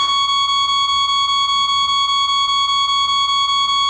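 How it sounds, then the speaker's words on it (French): A loud, steady censor bleep tone holds unbroken for about four seconds and then cuts off abruptly, with nothing else audible alongside it. "Pourquoi vous mettez des bips à chaque fois je dis?"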